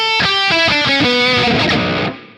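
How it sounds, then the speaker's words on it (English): Distorted electric guitar played through the room reverb setting of a Mooer GE200 multi-effects unit, a quick descending run of loud picked notes that blur together and leave a short ambient tail fading out at the end. "Over in your reverb section, your room reverb"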